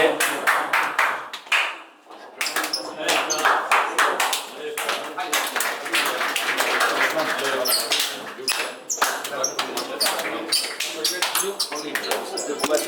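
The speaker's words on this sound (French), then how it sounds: "Les joueurs sont en train d'arriver dans ce gymnase des Fillettes sous les applaudissements des quelques spectateurs qui sont présents" Scattered applause from a small crowd of spectators in a futsal gym as players walk in, steady clapping that carries through the whole stretch while a commentator talks over it.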